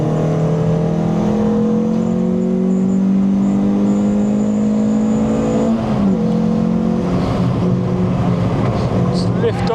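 A Renault Clio 182 accelerating around the Thruxton race circuit, the engine note climbing loudly through the revs, dropping at a shift, then pulling again, heard from inside the car with a driver talking over it.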